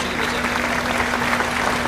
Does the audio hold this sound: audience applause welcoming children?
yes